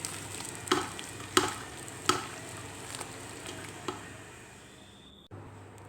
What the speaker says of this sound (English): add the jaggery and again mix them right from the bottom